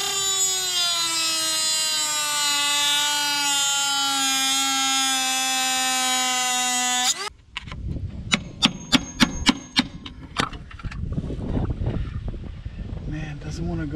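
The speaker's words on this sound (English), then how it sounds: "I've been trying to cut this bolt off, so I cut the other one off." Power tool grinding at a bolt on a Dodge Durango transmission mount, a loud sustained high whine for about seven seconds, then it stops and metallic clanks and knocks follow.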